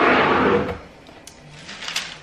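A desk drawer in a nail technician's workspace slides with a brief rushing scrape, followed by quieter clicks and light knocks of items inside.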